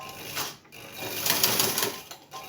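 A sewing machine runs down the seam of a straight skirt in short bursts of rapid mechanical stitching. It sounds close by, and its rhythm changes slightly as it speeds up and slows down.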